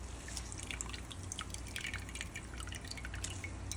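Juice from soaked santol fruit drips as the fruit is squeezed, making soft, faint, irregular liquid drips and trickles over a low background hum.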